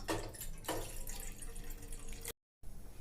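Water splashes and streams into a cooking pot with a bright, gurgling rush, about one and a half tumblers poured for masala tea, followed by a brief cut to silence and then more faint liquid noise.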